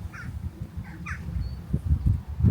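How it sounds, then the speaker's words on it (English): Sparrows chirp on a seaside walk: a few short, faint twittering calls rise in the distance over a low rumble of wind and footsteps, with no one speaking. "On the walk in, an abundance of sparrows."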